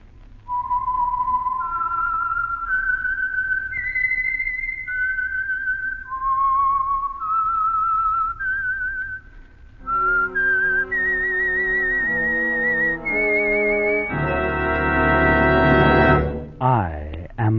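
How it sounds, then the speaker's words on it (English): A lone whistler carries a slow, eerie melody of sustained notes, the signature theme of the radio mystery program The Whistler, later joined by a deeper mournful tone that swells to a loud closing chord. "the signal to listen for is this whistle that identifies the Signal Oil Program"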